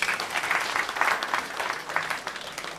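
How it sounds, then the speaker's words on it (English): An audience at a Gambian diaspora engagement event claps together, producing sustained, fairly close applause of many hands that holds steady throughout. "Can we clap for that?"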